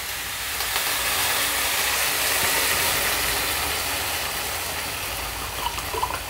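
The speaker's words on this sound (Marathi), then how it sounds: "आता आपण याच्यामध्ये 2 ग्लास पाणी टाकू" Two glasses of water poured into a pan of cluster beans cooking with turmeric and salt make a steady, loud hiss and sizzle that runs for several seconds without talk.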